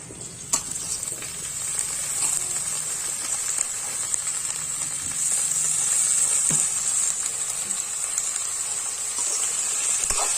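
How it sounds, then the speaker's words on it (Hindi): Potatoes and kundru (ivy gourd) fry in a pan for a Chhattisgarhi vegetable dish, giving a steady, close hiss and sizzle that runs unbroken throughout, with no talking. "अब इसमें हम डाल देंगे हमारा कुंदरू।"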